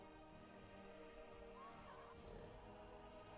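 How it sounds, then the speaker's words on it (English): Horse whinnying in the video game World Dungeon, a single faint call mid-clip over steady background game music and ambience. "That horse is making a noise."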